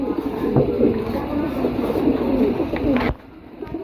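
A pair of caged pigeons, a female beside a male, coo in a steady low burbling murmur up close, then it cuts off into quieter room noise.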